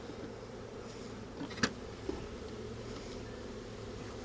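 Honeybees from a package being installed into a hive outdoors, a steady low droning buzz throughout with one brief sharp knock partway through.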